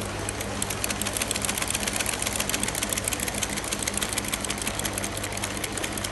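Industrial sewing machine fitted with a buttonhole foot stitching a buttonhole at slow speed, a steady close rapid mechanical chatter over a low motor hum, with no talking.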